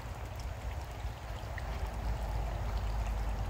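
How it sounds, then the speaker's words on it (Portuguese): Shallow, low water runs steadily along a street stream after several days without rain, a continuous close rushing wash with no pauses. "A água está pouca, né? Baixa aí, ó."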